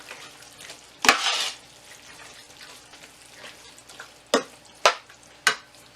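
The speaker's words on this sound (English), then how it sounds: "It also helps break down the zucchini every time I'm stirring it." Zucchini burger mixture being stirred in a pan, soft sizzling under a few distinct scraping strokes, one longer pass early and three quick ones near the end, no talk.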